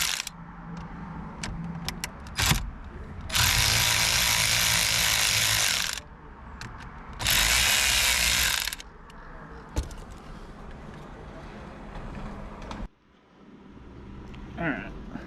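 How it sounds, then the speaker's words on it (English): Ratchet working on the ignition lock cylinder and switch assembly of a 1999 Chevy Malibu 3.1L, with two long bursts of rapid clicking between scattered clunks and handling noises, close and fairly quiet. "So I'm gonna unbolt this lock cylinder slash ignition switch assembly."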